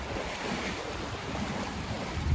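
Steady wash of waves and gusting wind buffeting the microphone aboard a sailboat, a constant loud rushing noise with no voices.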